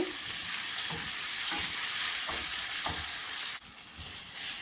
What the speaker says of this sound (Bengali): টমাটোর সঙ্গে আদা রসুন ভালো করে বেজে নেব